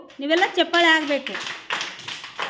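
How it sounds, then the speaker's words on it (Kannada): A group of children clapping during a classroom game about body parts; an adult voice is heard speaking first, then scattered, uneven claps follow at moderate loudness. "ನೀವೆಲ್ಲ ಚಪ್ಪಾಳೆ ಆಗಬೇಕು."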